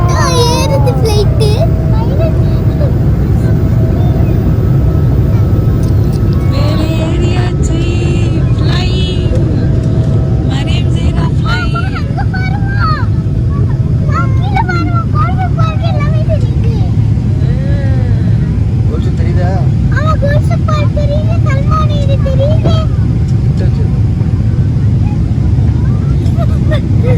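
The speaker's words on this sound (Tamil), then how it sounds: "இப்போ ஃப்ளைட் டேக் ஆஃப் ஆகுது." An Emirates airliner taking off, heard from inside the cabin as a loud, steady roar of engine and rumble that continues throughout, while people, including a child, talk over it.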